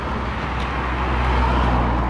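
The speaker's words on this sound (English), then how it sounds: "And now we hear traffic," Steady road traffic rumbles along a route of the Tour du Mont Blanc hiking trail, a continuous broad roar of passing vehicles, fairly loud and unbroken, with no talking.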